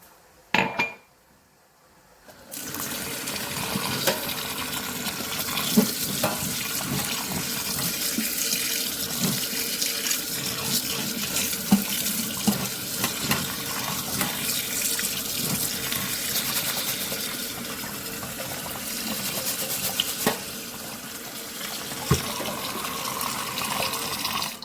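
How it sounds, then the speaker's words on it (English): Rice being washed under a running kitchen tap, with a steady close rush of water into a pot and faint clinks and swishes, starting after a brief quiet moment and continuing without talk. "In the meantime, I'm going to wash my rice."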